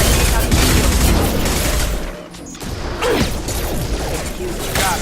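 Hostile mechs open fire in the sci-fi shooter Mass Effect 2, a loud barrage of blasts, crashes and mechanical clatter with a short lull partway through before the shooting resumes.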